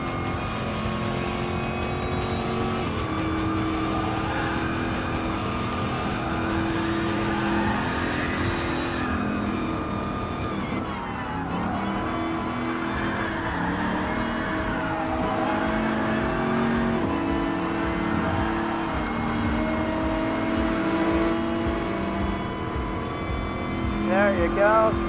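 Race cars, including an Aston Martin and a BMW, roar around a track in the racing game Gran Turismo Sport. Engine tones drone and shift pitch steadily as the cars accelerate and pass, continuous for the whole stretch.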